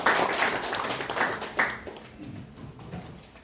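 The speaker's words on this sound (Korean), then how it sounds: "큰 박수로 맞이해 주시기 바랍니다" Audience applause welcoming the next presenter at an agricultural forum on microbe-based farming, a broad burst of clapping that is strongest at first and then thins out and fades over a few seconds.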